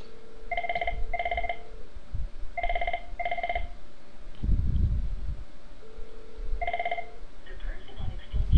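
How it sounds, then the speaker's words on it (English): A telephone rings in paired double bursts with pauses, an incoming call on a Trixbox server, repeating three times over low background hum with brief rustling between rings. "here's the Trixbox server showing the call going, ringing, still ringing"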